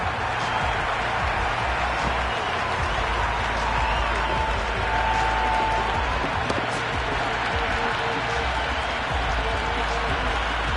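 A large crowd roars continuously in a stadium in the video game EA Cricket 26, IPL mode, a constant dense wash of cheering and noise with a faint tone rising briefly midway.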